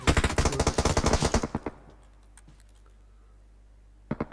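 PUBG Mobile game gunfire rattles off as a rapid automatic burst for about a second and a half, loud and close, then gives way to quiet before a short second burst at the end.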